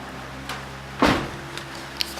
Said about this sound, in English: I remember closing that door behind me.